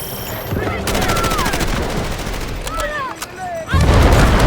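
Rapid bursts of MP5 gunfire in Delta Force with whizzing effects and a heavy boom near the end, loud and close.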